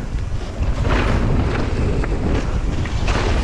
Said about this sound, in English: Oh, the wind is loud.